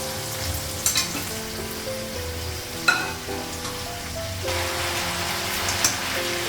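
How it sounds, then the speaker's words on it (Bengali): Cooked duck meat sautéed in a pan with garlic, a loud close sizzle with a few scraping and clinking stirs, no voices. "মাংসটা কষে নেব"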